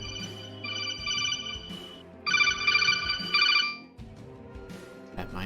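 A phone rings with the Codec ringer from the Metal Gear Solid video game: bright beeping bursts repeated twice with a pause between, clear and fairly close, over quiet room noise and a murmuring voice.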